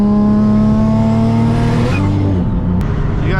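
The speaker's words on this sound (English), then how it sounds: "Turbo sounded nuts, man." A turbocharged Nissan 350Z engine revs hard and loud up close, its steady rising drone shifting pitch partway through as it accelerates, with no talking.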